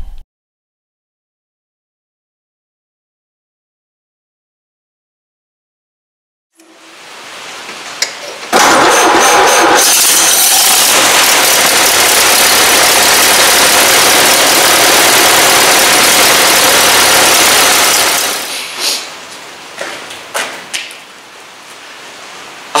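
A Ford Model A engine cranks and catches after several seconds of silence, then runs loudly for about twelve seconds before settling into a rougher, uneven idle.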